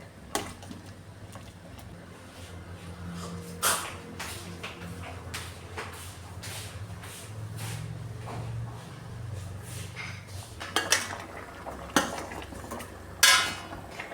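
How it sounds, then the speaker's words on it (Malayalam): Boiled tapioca and salt are stirred in a metal pot, sending out scattered scrapes and sharp clanks of a spoon against the pot, close by and irregular over a low hum, with no voices. "ഇനി ഇതൊന്ന് മിക്സ് ചെയ്ത് കൊടുക്കാമേ,"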